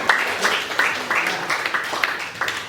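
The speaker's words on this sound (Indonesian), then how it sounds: "tepuk tangan lagi untuk Tata" Scattered hand clapping from a small classroom audience applauding a student named Tata, a light, uneven patter of claps fading after a few seconds.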